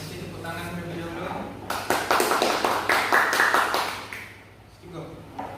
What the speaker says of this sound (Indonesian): Kasih tepuk tangan terlebih dahulu.